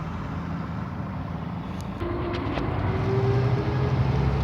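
Road traffic with trucks and cars on a busy highway, a continuous broad rumble of passing engines that swells louder midway, with no talk.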